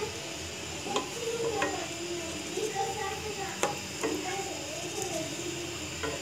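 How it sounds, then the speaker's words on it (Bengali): Rice being stirred in boiling milk for payesh, a soft bubbling simmer with a spoon scraping and clinking against the pot every second or so, fairly quiet and close. "ঘন ঘন নাড়তে হবে যাতে চালটা নিচে না লেগে যায়।"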